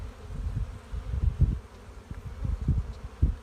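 Honeybees, some returning with pollen, buzz in a low, wavering drone up close at a hive during an early-spring inspection in Çorum, Turkey; the hum swells and fades irregularly as individual bees move about.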